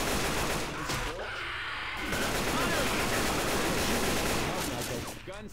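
Friendly gunfire in the video game Left 4 Dead 2: a sustained burst of rapid gunshots, dense and loud, with a player's voice faintly under the shooting.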